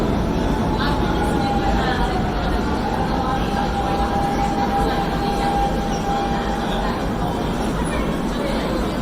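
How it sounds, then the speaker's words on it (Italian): A Lisbon metro train runs on a 750 V DC third rail, a dense steady rumble with a thin squealing tone from the wheels, heard close from inside and lasting throughout, with faint chatter beneath. "Questa metro utilizza una terza rotaia a 750 volt in corrente continua."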